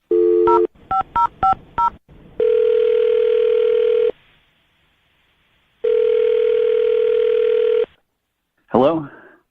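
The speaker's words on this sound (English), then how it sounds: "I'm going to dial his phone number right now" Several quick dialing tones beep in a row, followed by two long ringback tones separated by silence; a voice briefly answers at the end.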